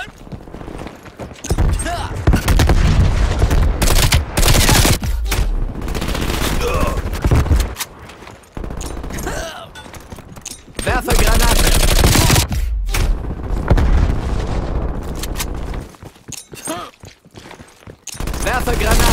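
Loud, close gunfire and explosions from the video game Call of Duty Black Ops Cold War, with rapid automatic bursts, heavy blasts and brief lulls between volleys, while a voice speaks at moments.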